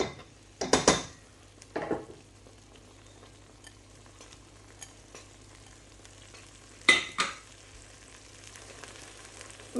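A spoon scrapes and clatters in a pan as methi leaves are stirred into cooked masala for a spinach curry, with a few sharp bursts of stirring over a faint, steady sizzle.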